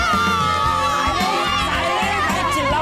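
Schoolchildren shouting together, a loud, constant wall of overlapping young voices and excited chatter with no pauses, crowded and close.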